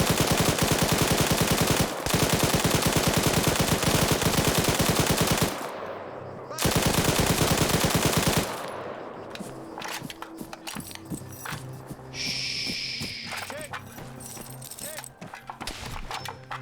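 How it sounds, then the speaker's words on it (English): Rapid machine gun fire bursts loud and sustained in a video game firefight, broken by short pauses, then fading into scattered shots, footsteps and ambient battle noise. "Machine gun."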